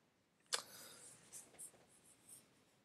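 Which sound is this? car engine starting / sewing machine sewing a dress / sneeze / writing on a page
writing on a page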